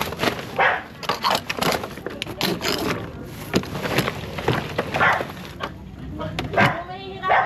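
A dog barks in short, scattered yips and woofs at close range, mixed with people talking nearby.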